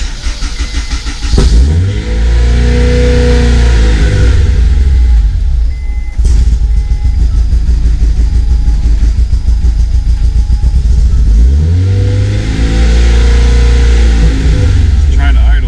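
A freshly upgraded Honda S2000 engine runs unevenly, its revs rising and sagging as it struggles to settle into an idle, loud and close with a steady mechanical drone and brief dips throughout.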